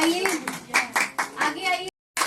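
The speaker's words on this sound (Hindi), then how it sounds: "सो एक बार प्लीज जोरदार तालियां" Bursts of clapping from the audience at a women's award ceremony in Chandigarh, with rhythmic hand claps in several pulses alongside voices, then a brief silent gap before the noise resumes.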